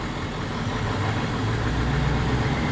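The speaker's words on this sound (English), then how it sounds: "So give it gas." Engine of a manual-transmission car being given gas while learning to drive: a steady, loud low rumble that swells slightly as the throttle opens, heard from inside the car with no talking.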